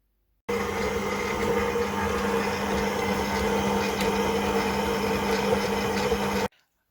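An electric mixer runs on a medium setting through cookie dough for triple chocolate chip New York style cookies, giving a steady motor whir with a constant hum that holds unbroken for about six seconds and then cuts off.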